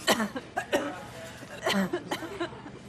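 A few harsh, bursting coughs come in quick succession, close and fairly loud, with short pauses between them.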